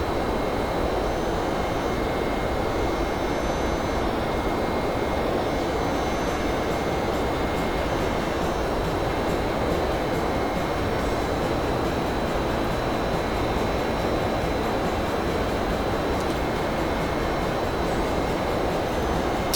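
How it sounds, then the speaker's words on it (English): Boeing 767 engines spooling at takeoff in a flight simulator game, a steady loud broadband roar with a continuous rushing hiss that holds without letup throughout. "how's the sound for the voice in the aircraft with the engine noises now we're taking off?"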